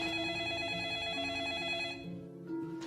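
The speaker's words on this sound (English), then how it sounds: "as soon as it's over, your phone rings" A telephone rings in a horror story setting, a continuous bright trilling bell that fills most of the moment before cutting off, with a low murmur of background sound beneath it.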